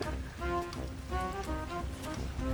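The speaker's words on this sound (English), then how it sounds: "Oh, glorious, glorious rain." Rain falls steadily in the video game ARK on PS5, a constant dense patter of drops on surfaces, close and fairly loud, with a low background hum and no talk.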